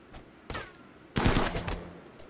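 Gunfire in the video game Rimworld during a fight with friendly fire: a short burst of shots, then a louder, denser volley of rapid firing lasting about half a second, with a faint pop at the end.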